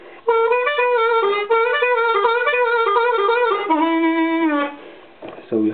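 A solo harmonica plays a riff on draw notes with bends, giving clear sustained tones that slide down in pitch near the end before short closing notes.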